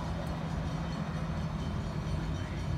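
A Norfolk Southern intermodal freight train rolls past at Cornelia, Georgia, giving a loud, steady rumbling roar of wagons on rails with a low hum underneath, unbroken for the whole stretch.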